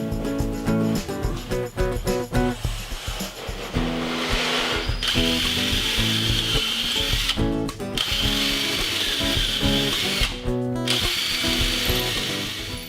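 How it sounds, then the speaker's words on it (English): A power drill whirs in repeated bursts, drilling shelf pin holes with a shop-made jig, pausing briefly between holes, close and loud, with steady motor pitch and occasional higher-pitched spinning stretches. "I'm drilling the holes for the adjustable shelves with a jig that I made here in the shop"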